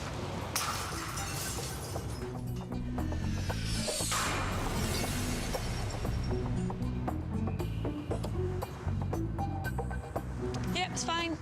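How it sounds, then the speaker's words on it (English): A glass tile about the size of those on the Sydney Opera House, dropped from more than 10 metres, strikes the ground with a sharp crack and clatter amid busy background noise and a talking voice. "I'm going to drop a tile about the same size as the ones on the Opera House from more than 10 metres"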